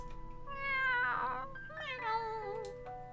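A cat meows twice in drawn-out, rising-and-falling calls, close and fairly clear over a quiet background.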